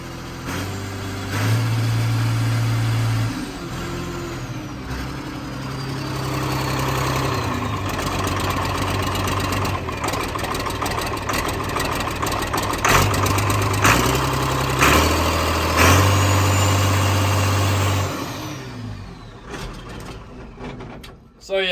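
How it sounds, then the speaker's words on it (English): An Allis Chalmers 7020 tractor engine runs up close, rough at low RPM, with several revs rising and falling over a steady mechanical drone before it settles back to idle. "So at low RPMs, it don't sound too hot. I rev it up a little bit, it clears out."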